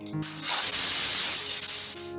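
A pressure cooker holding banana flower and a little water vents steam as a loud, sustained rushing hiss that swells in after a short pause and then slowly fades.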